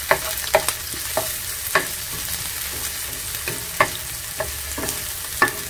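Garlic and onion sauté in a generous amount of oil for a patola and misua dish, a continuous soft sizzle punctuated by sharp clicks and scrapes of a utensil stirring the pan.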